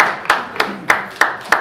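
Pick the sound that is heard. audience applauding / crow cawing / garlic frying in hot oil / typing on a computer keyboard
audience applauding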